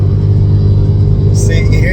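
A BMW M3 fitted with a Valvetronic exhaust drones with a deep, steady rasp at close range, loud and continuous, with a faint scraping hint that something is knocking.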